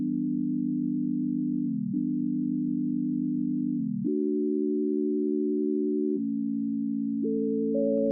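A plain sine-wave synth tone for a reggaeton track, a pure sustained pitch stepping between a few notes with short gliding dips, steady and alone.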